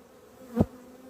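Honey bees hum steadily at an open hive, a low insect drone with one bee buzzing loudly past close by, with no talking.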